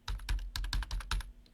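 Keys on a computer keyboard are pressed in a quick burst of about five or six crisp, close clicks. The rhythm is uneven, there is no talk, and a short quiet tail follows.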